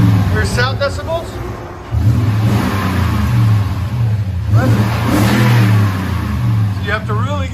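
A 2011 Toyota Tundra 5.7L V8 with Magnaflow dual exhaust and 22-inch wheels revving, a loud steady engine drone rising partway through, with people talking over it.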